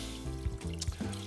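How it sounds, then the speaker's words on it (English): Chicken broth poured into a pot for making grits, a soft liquid trickle with a couple of louder splashing pulses, close and steady, with no talking. "So I'm adding in 3 cups of chicken broth"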